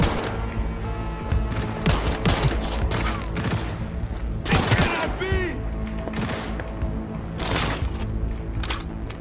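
Rapid gunfire from the video game Cyberpunk 2077 rings out in dense bursts across the whole stretch, loud and near, mixed with game effects and impacts while someone talks over it.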